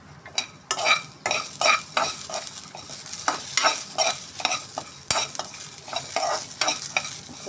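Ginger and green chillies frying in oil in a pan, stirred with a spoon that scrapes the metal in a steady irregular rhythm over a continuous close sizzle, with no talking.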